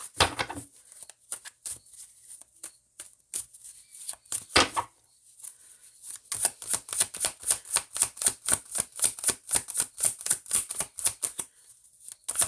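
Tarot cards are shuffled and drawn by hand, first a few scattered flicks and taps, then a fast, even run of crisp riffling card snaps close to the mic, no talking.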